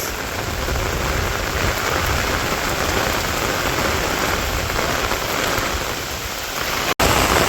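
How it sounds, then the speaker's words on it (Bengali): Heavy rain pours down steadily and close by, a dense continuous hiss with no voices, cut briefly just before the end. "এই দিক দিয়ে ভালো বৃষ্টি নামতেছে"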